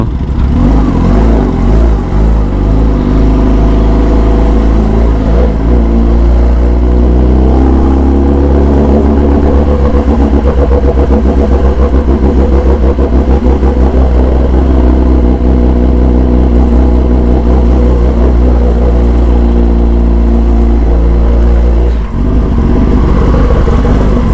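A Kawasaki ZX-10R superbike runs with a loud, close exhaust, engine droning and rising in revs through the middle before easing off, one continuous roar.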